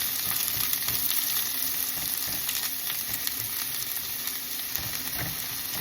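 Onions and garlic frying in hot oil, a steady close sizzle with small crackles and pops, running continuously without talk.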